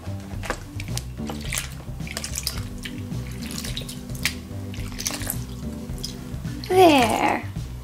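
Running water pours and splashes steadily in a bath, with trickles and drips close by, a voice speaking softly, and a baby's brief cry near the end.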